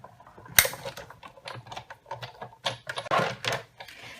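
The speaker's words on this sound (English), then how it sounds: "Put another cutting plate on top and we'll just run this through the Big Shot." Big Shot die-cutting machine with cutting plates and a card run through it, a string of close clicking and ratcheting sounds in an uneven rhythm, with one sharp crack near the start.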